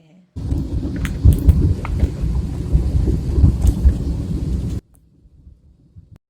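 Heavy rain on a drive through foggy hills around Arunachal and Shillong, a steady dense roar that holds for about four and a half seconds and then cuts off abruptly into near silence.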